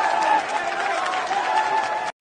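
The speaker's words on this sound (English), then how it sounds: "And the crowd goes wild." A crowd roars and cheers in a continuous wash of noise and voices, loud and unbroken, then cuts off abruptly at the end.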